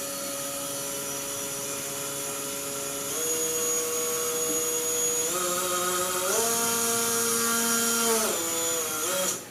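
Motors on a Foxtech Screamer 250 racing pentacopter whine up close, stepping up in pitch in several stages as throttle is added, then dropping away at the end.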